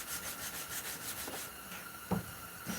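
A forged hunting knife blade being sanded by hand with grit paper: close, even rasping strokes in a regular rhythm, with one brief sharper knock near the end and no voices.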